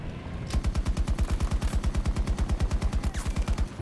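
A rapid, evenly spaced automatic weapon rattles off a long, steady burst of punchy shots up close in a Battlefield 2042 battle, continuing for several seconds without pause.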